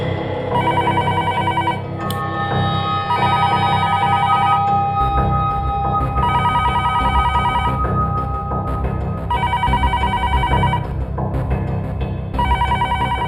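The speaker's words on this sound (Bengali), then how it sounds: "ফোন ধরুন।" A telephone rings loudly in repeated electronic trilling bursts, about four rings spaced a few seconds apart over a low background hum.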